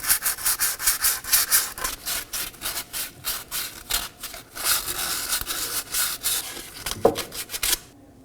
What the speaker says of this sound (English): You could also use some fine grit sandpaper if it's heavily corroded.